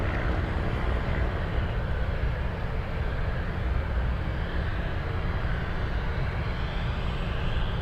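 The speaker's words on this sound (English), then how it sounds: "We have the seaplane." A Kodiak 100 seaplane flying over Anchorage, a steady broadband engine drone holding at an even level throughout, moderately distant, with no voices over it.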